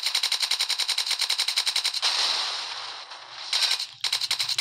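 Rapid automatic fire from a zombie gun in the Roblox video game rattles in fast even bursts, broken by a hissing whoosh and then resuming, loud with no talk.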